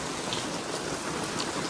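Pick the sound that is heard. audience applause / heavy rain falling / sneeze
heavy rain falling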